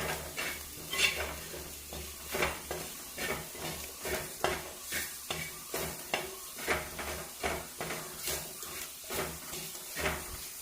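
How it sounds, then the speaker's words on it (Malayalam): A Kerala-style mutton curry masala with chopped tomato is stirred and sautéed in a pan, with steady rhythmic scraping strokes over a soft continuous sizzle, close and fairly loud, with no talking. "തക്കാളി കൂടെ ചേർത്തതിന് ശേഷം നന്നായിട്ടൊന്ന് വഴറ്റുക"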